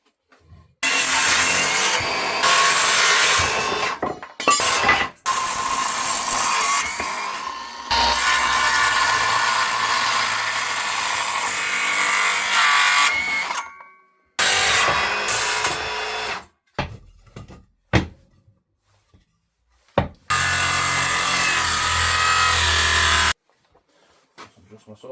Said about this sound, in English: time to circular saw this bad boy